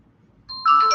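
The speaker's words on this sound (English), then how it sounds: "That was my phone." A mobile phone rings indoors, a bright electronic ringtone that starts in the second half and grows louder in two steps, close and clear with no talk over it.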